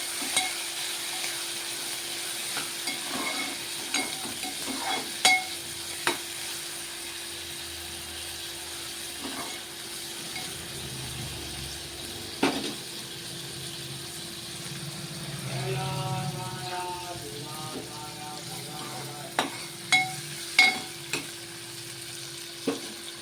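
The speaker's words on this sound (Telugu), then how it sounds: "రొయ్యలు వేసి కొంచెం సేపు ఇట్లా నూనెలో వేపుకుందాము." Prawns fry in hot oil in a pan, a steady close sizzle with occasional sharp clinks and scrapes of stirring, and no voices over it.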